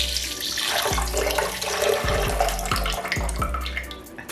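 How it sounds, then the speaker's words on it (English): Water, 250 millilitres measured out, pours into a blender for making cashew cream, a close, gurgling splash with a few bumps and knocks along the way. "We're going to add 250 mils of water."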